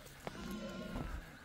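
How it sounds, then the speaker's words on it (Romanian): Sheep bleating at a Romanian sheepfold near a forest, one short distant bleat over quiet outdoor ambience and faint low murmurs. "Uitați, oameni buni, oile acolo"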